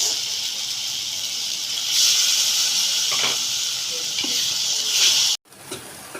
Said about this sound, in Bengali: এরপর এখানে দিয়ে দিব টমেটো কুচি, আবার ভালো করে মশলাটাকে টমেটোর সাথে ভালো করে কষিয়ে নিব।